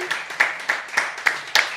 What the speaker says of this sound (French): On peut remercier et applaudir maître Lelon, Carole et Annie